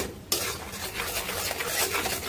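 Spices are stirred into a pan of small fish cooking over low heat, a close, continuous scraping and shuffling that begins abruptly after a brief quiet moment.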